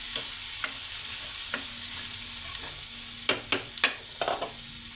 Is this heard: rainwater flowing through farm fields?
no